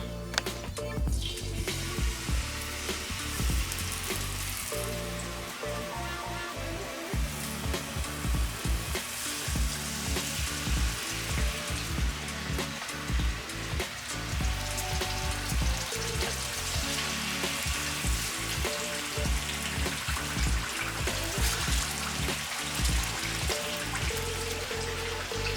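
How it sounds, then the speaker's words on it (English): Chicken frying in a pan, a continuous dense sizzle and crackle, loud and close, with no talking throughout. "then after that I'm gonna drop the chicken in there, let that fry"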